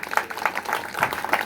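A church congregation claps hands together, a dense, slightly uneven patter of many palms at moderate distance, continuing briefly without voices on top.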